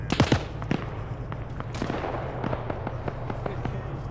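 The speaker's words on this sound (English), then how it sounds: "And they're still shooting." Repeated Lee Enfield rifle shots in a video game, sharp cracks ringing out one after another in an irregular rhythm, some close and loud, others more distant, over a steady low hum.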